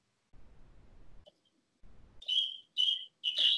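Birds singing outside, picked up over a phone line: a few sharp, high chirping bursts in quick succession, thin and compressed, following faint low rumbling.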